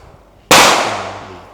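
A single loud, sharp gunshot cracks at a shooting range, with an abrupt onset and a decaying ring-out that fades over a second after quiet handling noise.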